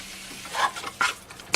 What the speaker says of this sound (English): Some people call this flash frying. That's because it's so fast.